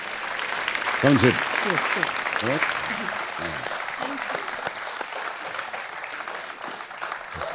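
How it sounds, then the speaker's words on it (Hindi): Studio audience applause on a quiz show set, a broad sustained clapping wash with someone speaking briefly over it early on. "big hand for the dancers ladies and gentleman"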